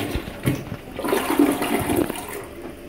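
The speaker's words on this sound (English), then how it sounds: "the commode is... it's an American standard, so let's flush it right on camera." An American Standard toilet in a Holiday Inn Express hotel bathroom flushes with a steady rushing gurgle of water, close and fairly loud, lasting throughout without speech.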